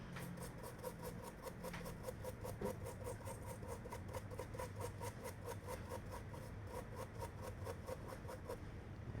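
A dry toothbrush rhythmically scrubs the circuit board of an iPhone 7 Plus that will not turn on, using a cleaning solution, making steady close bristle strokes repeating a couple of times per second without pause.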